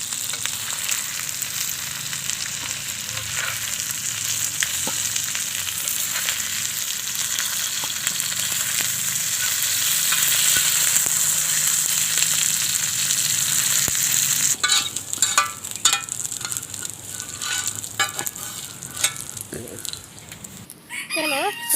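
Fish frying in oil on a flat dosa stone set over a village wood-fired stove, a steady broadband sizzle running throughout, with a rooster crowing and rural background sounds in the later part.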